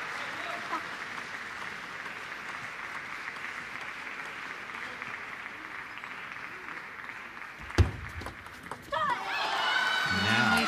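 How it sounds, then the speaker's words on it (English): Crowd at a women's table tennis world championship semifinal, Japanese supporters behind the bench, gives a steady wash of distant cheering and applause, with a sharp knock partway through and commentators speaking near the end. "Just behind their bench, they're in full voice already, cheering that success for Ito."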